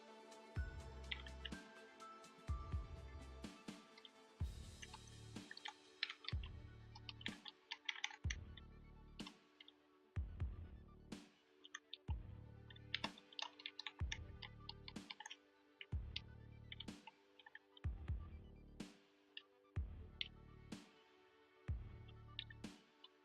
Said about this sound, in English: I'm also typing at the same time in the tournament because for the bans